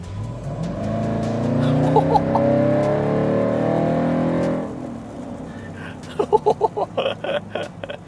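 A Land Rover V8 engine at full throttle roars steadily for several seconds, then the note drops away and a few short clicks and knocks follow.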